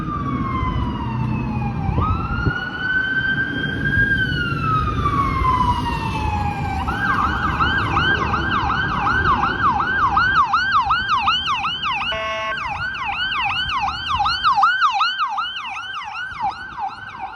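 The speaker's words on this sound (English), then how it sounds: "That was the ambulance." An ambulance siren on Yonge Street in Toronto's Midtown sweeps in a rising and falling wail, then switches to a rapid yelp, loud and continuous over a low rumble of city traffic.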